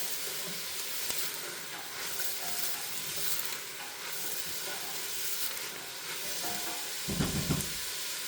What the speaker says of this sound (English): We're going to give these all a nice stir